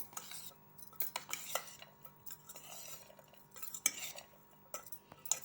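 A metal spoon scrapes and clinks against a dish while mixing mango pickle ingredients, sour mango with a little sugar, in a steady run of quiet, close strokes with occasional sharper chinks.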